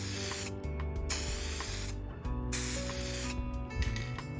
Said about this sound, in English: we're just going to go ahead and spray this section here.